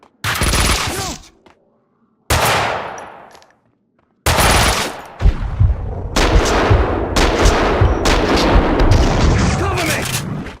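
Gunfire in the game Max Payne 2: loud bursts of shots and booming blasts in several separate bursts, then a sustained stretch of rapid firing, with voices shouting between them.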